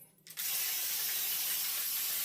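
After a brief quiet moment, a sudden close aerosol cooking spray starts spraying into a pan, a steady bright hiss that continues without break.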